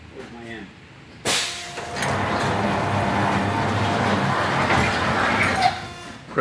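Thermoformer oven door on a plastics-forming machine being raised with acrylic sheet inside: a sudden mechanical onset followed by a steady sliding, rumbling roar, with someone talking over it.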